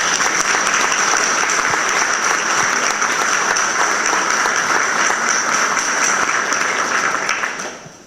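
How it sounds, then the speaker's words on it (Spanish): A conference audience in a hall applauds loudly and continuously for several seconds, the clapping dense and even before tapering off at the end. "Un aplauso para ellos."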